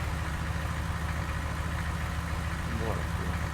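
A car engine idles steadily with a low, even rumble inside a mobile video game, with a voice talking briefly over it.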